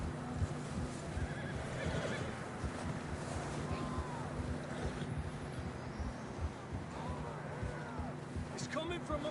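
A horse whinnies in the Red Dead Redemption 2 game amid steady wind and outdoor ambience, with light hoof movement and a faint voice in the background.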